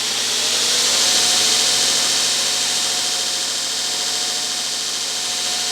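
A Travis Wuertz belt grinder makes a knife-grinding pass, giving a loud, continuous, high-pitched whir that swells slightly and then holds steady at close range, with no talking.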